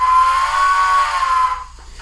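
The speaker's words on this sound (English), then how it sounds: "So now you can hear how much lower the whistle volume is going to be." A steam locomotive whistle from a Tsunami2 sound decoder sounds one steady, sustained tone for about a second and a half, then cuts off abruptly, at moderate volume with no talk.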